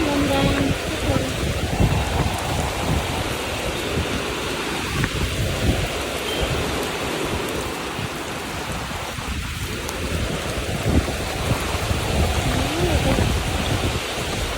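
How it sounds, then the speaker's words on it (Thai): Heavy rain pours in a thunderstorm while strong wind roars steadily throughout, a dense, loud, continuous wash of noise with no distinct voices. "โอ้ยลมแรงมากเลยทุกคนทั้งฝนทั้งลมเลย"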